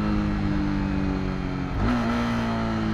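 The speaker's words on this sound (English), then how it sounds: "what you can do is rev match like this" A motorcycle engine drones at steady revs, dips briefly as the clutch is pulled, then blips up to a higher pitch for a rev-matched downshift and holds there, close and loud with no talk.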